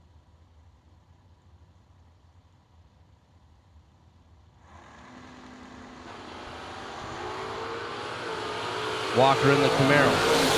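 Drag race launch at a RAD Torque Systems event as a Camaro and a Mustang pull away side by side: a quiet start, then engine roar rising steadily and swelling loud near the end, with an announcer talking over it.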